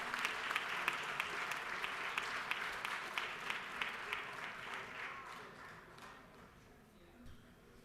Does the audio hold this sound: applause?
yes